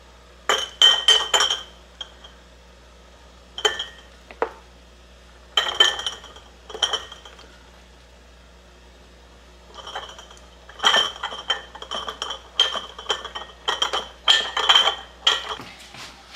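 Glass canning jars packed with fresh pineapple clink and chink against each other in several short bursts of bright taps, with quiet gaps in between and no talking.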